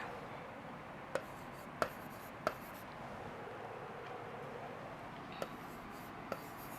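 Numbers are written by hand, heard as a soft, steady scratching with five sharp taps spaced irregularly as each figure is put down, fairly quiet with no talking.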